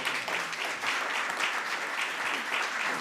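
Sustained applause fills a formal signing ceremony for a memorandum of understanding, a steady dense wash of many hands clapping at even loudness with no voices over it.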